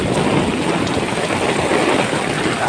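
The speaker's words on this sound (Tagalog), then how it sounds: "No, malakas lalo ang ulan." Heavy rain pours down in a dense, steady roar, loud and close, with no voices over it.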